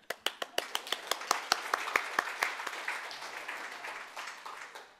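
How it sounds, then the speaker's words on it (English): Conference audience applause from a crowd in a hall, starting with sharp distinct claps that quickly blend into a steady, moderately loud wash of clapping before gradually thinning out. "So if I can get you all to give yourselves a round of applause, that'd be great."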